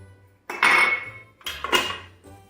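Vanilla and sugar whisked into batter in a bowl come through as two bursts of clattering metal against the bowl, loud and close, with short pauses between them.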